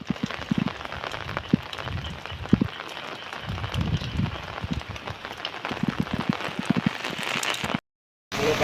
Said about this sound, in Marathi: मोठ्या प्रमाणावर मुसळधार पाऊस सुरू असून